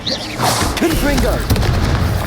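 Confringo, the fiery blasting spell in the Hogwarts Legacy video game, goes off with a deep booming burst and a rumbling tail. Game sound effects and a voice-like cry overlap the blast.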